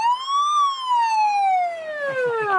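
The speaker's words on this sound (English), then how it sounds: "Yeah, siren all works, yeah." A Dukes of Hazzard police car's siren wails in a steady rising-then-falling sweep, loud and close, running continuously on its own with no talk over it.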